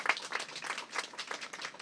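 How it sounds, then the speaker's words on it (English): Outdoor audience applause at a park groundbreaking ceremony in Gowanus, Brooklyn, a scattered patter of hand claps spread across a small crowd, moderately distant and steady for a couple of seconds. "Let's give them a round of applause."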